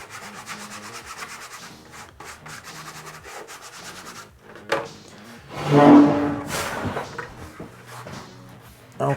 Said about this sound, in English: So I'm just rubbing that. Rubbing it into place, just like it's a transfer.